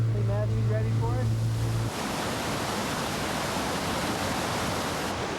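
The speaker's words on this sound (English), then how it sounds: "Man, look at the waterfall." A waterfall near Turner Lake roars as a dense, steady rush of falling water, loud and close, with a voice briefly over it at the start.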